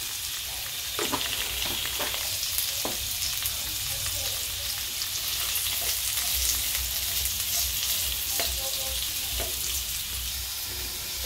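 Bay leaf and whole cumin seeds fry in hot oil with a constant close crackle and hiss. Small pops break through a bright, steady sizzle.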